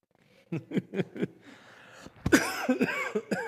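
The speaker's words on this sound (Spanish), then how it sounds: "Me viene una tos, ¿cómo hago?" Several sharp coughs in a quick irregular series from one nearby person, followed by a louder burst of coughing that blends into laughter.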